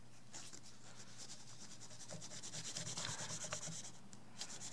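A fingertip rubs metal polish freehand onto a metal-plated item, giving a soft, continuous scrubbing hiss, faint and close, with no talking.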